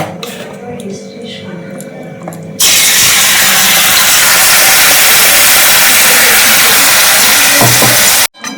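Onion, ginger and garlic paste hits a hot wok (kadai) and erupts into a loud, close hissing sizzle after a quieter stretch of kitchen sounds, cutting off abruptly near the end.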